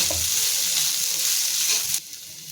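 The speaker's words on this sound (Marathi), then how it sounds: "थोडा वेळ फक्त ते परतून घ्यायचे मसाले मिक्स होईपर्यंत" Boiled potato and spices sautéed in a pan for a stuffed chilli filling: a steady, close sizzle with stirring scrapes that cuts off abruptly near the end.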